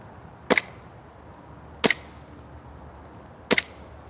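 A WE Warrior airsoft M1911 pistol fires three sharp, separate cracks at a golf ball, spaced about 1.5 seconds apart, each a short snap in a quiet outdoor setting.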